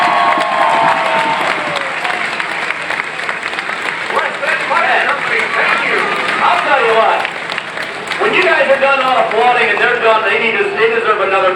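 A crowd at a demolition derby with an engine fire gives loud, sustained applause and cheering throughout, while an announcer talks over the clapping.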